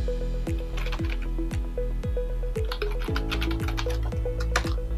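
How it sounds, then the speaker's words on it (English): Keys clatter on a computer keyboard as a command is typed into a terminal on a Raspberry Pi 5, a steady run of close, crisp clicks with no voices. "You can list the available databases by typing this command."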